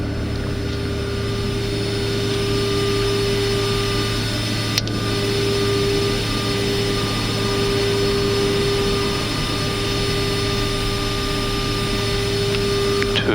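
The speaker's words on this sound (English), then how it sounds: "Starting engine 1." A Boeing 747-400 jet engine, number 1, spools up during a manual start in the cockpit, a loud steady whine with tonal hums and a single sharp click partway through.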